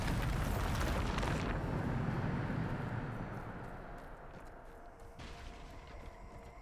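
A Bombarda blasting spell erupts in the game Hogwarts Legacy, a loud roaring explosion that rumbles and slowly fades over several seconds, followed by a second, softer burst.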